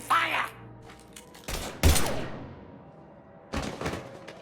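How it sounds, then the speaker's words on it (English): Gunfire in Mass Effect 3 comes as a few separate loud bursts with quiet gaps between them, each shot booming and decaying into a rumbling tail, and the last volley arrives near the end. "Now open fire!"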